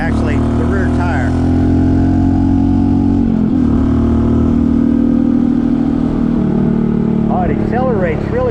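A Honda CT125 motorcycle with a 142cc big bore engine runs loud and close, its steady mid-pitched drone shifting slightly partway through, while someone talks over it.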